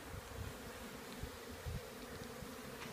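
A hive full of bees, many of them drones, gives off a dense, continuous buzzing hum with occasional louder passes of individual bees close by, with no talk.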